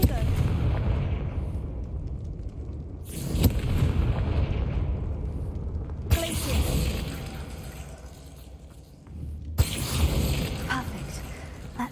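Fire-spell blasts in Hogwarts Legacy boom out as several loud bursts around three, six and nine and a half seconds, each followed by a rumbling tail over busy game noise, with talk under them.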